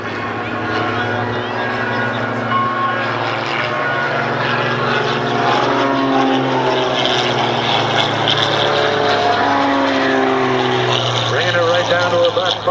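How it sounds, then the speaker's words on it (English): A propeller-driven aerobatic airplane performs a snap roll at a military air show, its engine droning loudly with rising and falling pitch sweeps, while an announcer talks over the sound. "they'll snap the aircraft all the way around for the avalanche or the snap"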